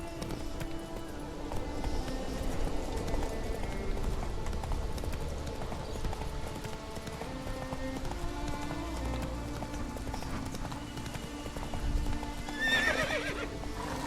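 In The Witcher 3, the horse Roach gallops with a continuous clip-clop of hooves, joined by a brief whinny and light rain-like patter. The sound is moderately loud and has no talking over it.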